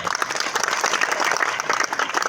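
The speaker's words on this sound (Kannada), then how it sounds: "ಹೊಡೀರಿ ಚಪ್ಪಾಳೆ." A crowd at a public talk on Sanatana Dharma claps loudly and continuously, a thick wash of many hands close by with no letup.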